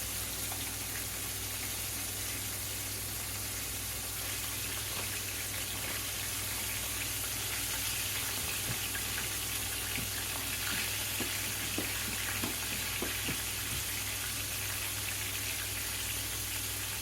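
Fish and French fries frying in hot oil, a steady low hiss and crackle with scattered pops, continuous and fairly quiet, with no talking.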